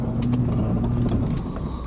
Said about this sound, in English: I love this truck so much.